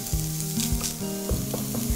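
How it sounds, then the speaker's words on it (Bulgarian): Chorizo frying without oil in a hot pan, a steady close sizzle with crackling and scraping stirs across the whole stretch, no voices. "първо сложим 100 грама чоризо в нагорещен тиган"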